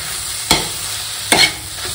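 Carrot halwa with oats being stirred in a pan over a constant sizzle, with two distinct spoon scrapes standing out close by and a fainter one trailing at the end.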